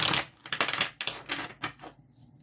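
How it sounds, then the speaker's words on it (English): A tarot card deck is shuffled by hand, a run of quick crisp riffling flutters and taps in close bursts, then trailing off into quiet. "So let's give this one more good shuffle."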